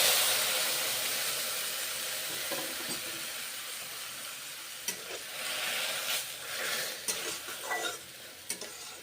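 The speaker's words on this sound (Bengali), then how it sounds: "ভেজে নিয়েছি, তারপরে দুধ দিচ্ছি" Milk is poured into vermicelli fried in ghee in a pan, bringing a loud hiss and bubbling sizzle that eases gradually, followed by clinks and stirring scrapes.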